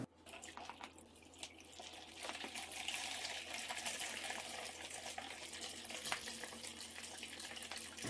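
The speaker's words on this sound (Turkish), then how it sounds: "Kavanozların her ikisinin de ilk suyunu döküp tekrar çeşmeden temiz suyla dolduruyorum." Tap water running steadily from a faucet into glass jars of green olives, a continuous close hissing splash that rises slightly in pitch as the jars fill, with no talk.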